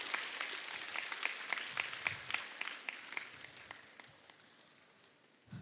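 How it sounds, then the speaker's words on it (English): Audience applause at a college women's international seminar award presentation: steady clapping from a moderate crowd that thins out and fades toward the end. "Give your appreciation by your applause"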